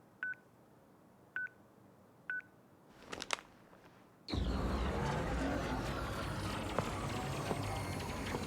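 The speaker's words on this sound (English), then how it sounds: "Nice flip phone." Flip phone keypad tones in the video game Crisis Core: three short evenly spaced electronic beeps, a brief clatter, then a sudden loud sustained rush of game ambience or music.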